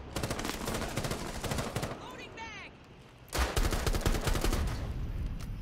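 Rapid machine gun fire in the shooter game Rainbow Six Siege, dense bursts of loud shots that pause briefly and then resume, with a voice talking over the gunfire.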